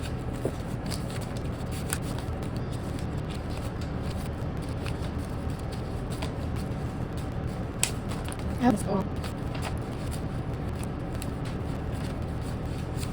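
Canadian banknotes unstuffed from envelopes are sorted into a stack, producing soft, close papery riffling and shuffling with small flicks and rustles, fairly quiet, with a voice present at times.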